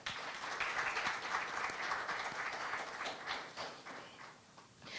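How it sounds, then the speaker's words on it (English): Faint, distant applause from the crowd at a national teachers' awards ceremony, a steady wash of many hands clapping that holds for several seconds before tapering slightly. "Please join me in a round of applause for all the persons who made this possible."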